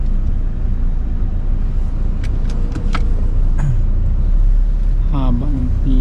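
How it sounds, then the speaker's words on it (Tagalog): Road traffic crawling toward a tollgate on a hot day, a steady loud rumble of car engines close by with scattered brief tones and clicks, and voices talking now and then over the noise. "Bakit kaya traffic?"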